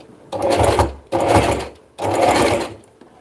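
A sewing machine stitches in three bursts of fast, steady mechanical whirring with short pauses in between, heard close and clear.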